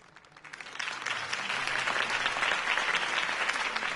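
Crowd applause greeting Harvey Dent's campaign speech in the Batman Telltale video game: clapping swells in over the first second, then holds as a broad, steady ovation from a large audience, slightly distant.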